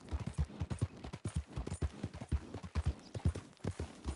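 A horse gallops in the Red Dead video game, producing fast, rhythmic, close hoofbeats that pound steadily at full speed without a break.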